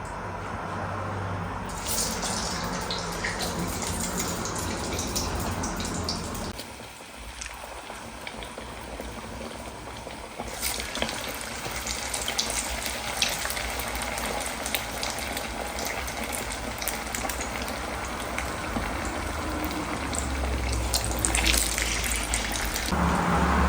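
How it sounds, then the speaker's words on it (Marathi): A kitchen tap runs steadily for a long stretch while hands are washed beneath it, with the gushing stream briefly softening before splashing back to full strength. "थोडेसे हात जरी खराब झाले ना तरी लगेच मला ना हात वॉश करायला आवडतात"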